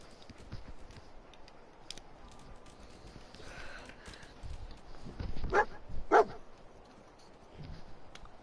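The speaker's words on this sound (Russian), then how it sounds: "Псину щось знайшов." A dog barking in the Fallout 4 video game, a couple of sharp barks partway through, moderately close, over quiet game ambience and faint footsteps.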